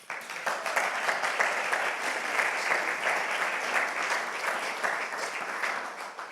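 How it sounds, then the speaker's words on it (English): A sustained burst of audience applause fills a podcasting party in New York, steady dense clapping from a crowd that holds evenly for several seconds before tapering slightly at the end. "it's good that you applaud them"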